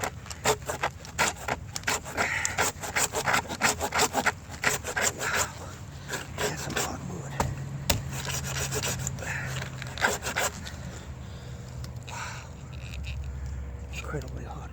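A hand saw rasps back and forth through a hard fatwood stump outdoors in quick, rhythmic close strokes that continue steadily, then slow and roughen toward the end.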